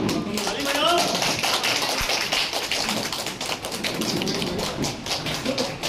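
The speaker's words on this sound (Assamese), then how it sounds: "আমাৰ ৰাইজ তালি মাৰক" An audience at a ceremony claps with dense, continuous applause throughout, while a voice speaks over it.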